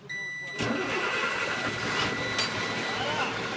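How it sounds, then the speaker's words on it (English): A truck engine cranks and catches with a sharp burst, then settles into a loud, rough idle, heard close from inside the cab with a faint warning chime running alongside. "I'm gonna press my clutch in, and I'm gonna start my engine up."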